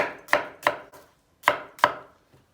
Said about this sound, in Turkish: Bir tane büyük boy, bir tane de orta boy soğan doğrayacağız.